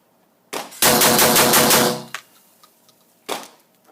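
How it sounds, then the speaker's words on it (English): A Mossberg 930 JM Pro semi-automatic shotgun fires a loud, rapid string of closely spaced shots outdoors, bracketed by single sharp reports before and after the burst. "I'm just going to get all aggressive on it and shoot as fast as I can."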